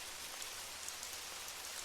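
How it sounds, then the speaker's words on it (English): Steady rain patters on window glass, a soft, even hiss with no pauses or other sounds, quiet and close. "the rain whispers on the window glass"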